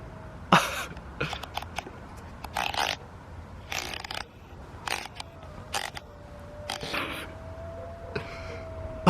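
Two cats about to fight make harsh, throaty yowls and hissing bursts in irregular spurts over a steady low hum, with a long drawn moaning tone in between.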